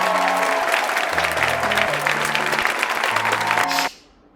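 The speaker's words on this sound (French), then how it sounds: "Ouais, vous pouvez applaudir." A crowd claps steadily for a few seconds with music underneath, then the applause cuts off abruptly.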